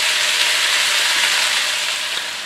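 Sliced onions cook gently in a pan for French onion soup, giving a soft, steady, even sizzle throughout, close and fairly loud with no voices.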